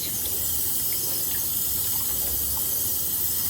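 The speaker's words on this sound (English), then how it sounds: "you're going to carefully rinse this out with warm water until the soap is out of it" Warm tap water running steadily into a sink while wet felt is rinsed free of soap, a continuous close hiss and splash with no talking.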